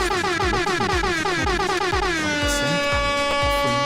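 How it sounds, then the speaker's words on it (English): A loud, blaring air horn sound effect repeats in rapid, stuttering bursts and then holds into one long, sustained honk, harsh and close throughout. "I feed you an air horn"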